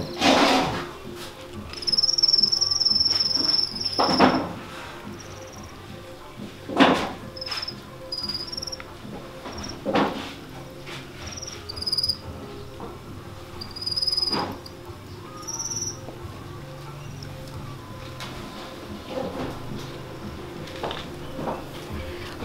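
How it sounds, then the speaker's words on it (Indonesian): Farmed crickets chirp in cages, their high trills repeating in short bursts over soft rustling and occasional knocks, with a little faint talk in the background. "Ini contohnya, masih ada lagi seperti ini pemberian pakan jangkrik-jangkriknya guys"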